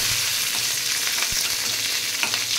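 Dry chillies and curry leaves crackling in hot oil for an ashgourd kootu, a continuous close sizzle with small pops and an occasional stir.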